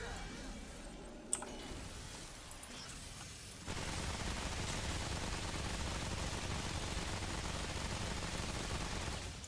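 Rapid automatic gunfire at maximum fire rate in Remnant 2 becomes a dense continuous roar of shots, starting after a few quieter clicks and lasting to the end.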